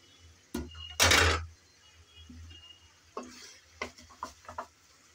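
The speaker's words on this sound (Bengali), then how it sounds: "সবজি দিয়ে আমি ভালোভাবে নেড়ে চেড়ে একটু কষিয়ে নেব।" Cauliflower and potato curry vegetables stirred and sautéed in a pan, with scattered scraping and clattering strokes, one loud burst near the start, and a low sizzle underneath.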